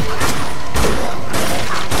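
A rifle firing repeatedly in Dead Nation, loud heavy shots roughly every half second over a dense, saturated roar of game action.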